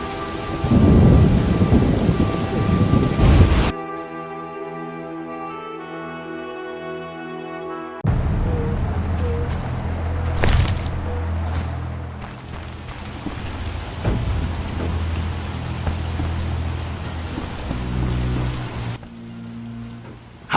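Rain falls steadily with rolls of thunder in a swamp area of the video game The Witcher, a loud rumble at the start, then continuous rainfall with further thunder cracks and distant rumbles, no talking.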